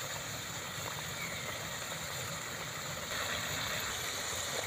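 Nimki pastries frying in hot oil in a home kitchen give a steady, soft hiss and fizz, continuous and fairly quiet throughout, with no talking.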